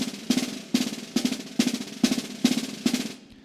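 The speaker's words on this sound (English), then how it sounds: "our buzz roll, if taken the steps I just outlined, sounds like this" A snare drum plays slow, evenly spaced buzzing strokes, each a short crushed rattle, about eight in a row before it stops.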